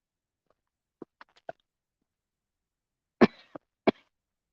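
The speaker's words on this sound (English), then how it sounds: "I start coughing." A woman coughs in a garden, a few short light coughs followed after a pause by two sharper, louder harsh coughs, close and alone in quiet surroundings.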